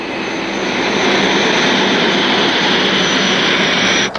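An airplane descends toward a 4,500-foot runway with its landing gear lowered. The engine gives a loud, steady roar close by that holds for the whole stretch, with no voices.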